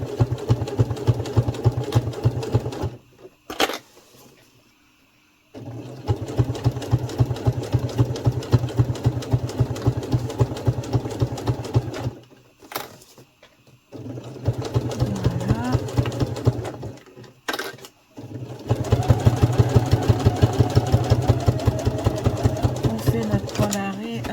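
A sewing machine runs in long steady bursts with rapid needle chatter while stitching a lined rectangular zip pouch, pausing briefly several times, close and clear.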